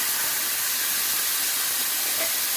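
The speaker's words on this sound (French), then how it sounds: "Maintenant, mon mari rajoute tous les légumes à l'intérieur." A loud, steady hiss of steam and spitting fat rises as vegetables for ratatouille go into browned onions in a hot pan, unbroken throughout and close by.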